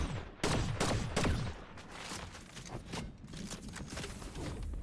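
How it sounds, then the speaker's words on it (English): Gunfire in Fortnite Zero Build: a few sharp, close shots in quick succession open the passage, followed by a rattle of lighter, more distant shots under a busy game background. "Getting shot from island. This fight sucks."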